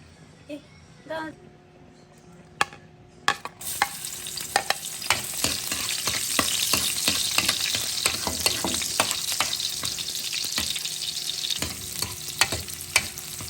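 Chopped garlic hits hot cooking oil in a pan: after a few knocks, a bright sizzle swells and holds, punctuated by repeated clattering stirs of a utensil, with a voice talking over it.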